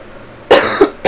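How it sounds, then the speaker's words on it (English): A person coughs loudly and close up, two harsh bursts followed by the start of a third, with no talk. "Sorry for the coughing, guys."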